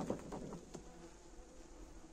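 A relocated swarm of honeybees buzzes in a low, steady drone at a hive, faint and continuous, with a few soft knocks and no voices.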